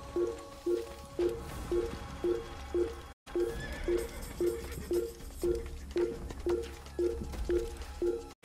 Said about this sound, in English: Oh no, I'm riding a horse really fast.